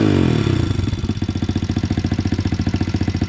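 Motorcycle engine on an RFZ fitted with an overly loud exhaust cartridge, idling up close with a rough, rapid, even popping pulse after a brief blip of revs, loud and alone.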